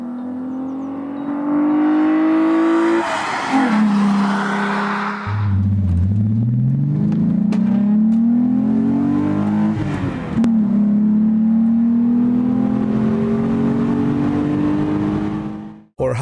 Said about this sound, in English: The special design of a 6-cylinder inline engine in which the combustion chambers were aligned as a V has a very specific sound.